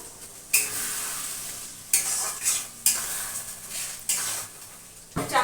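Spice masala is stir-fried in a kadai with a spatula. Several sharp scraping strokes come at irregular intervals over a low sizzle, close by and with no voices.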